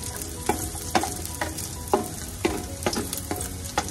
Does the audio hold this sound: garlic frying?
yes